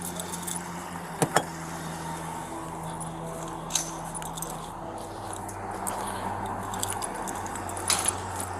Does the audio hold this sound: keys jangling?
yes